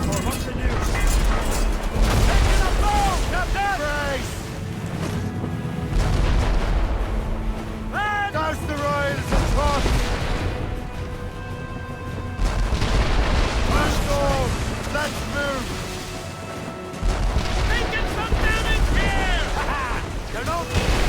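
Naval cannon broadsides in Assassin's Creed Rogue, repeated heavy booms rolling across a ship battle in loud waves, mixed with shouting crew voices and battle noise throughout.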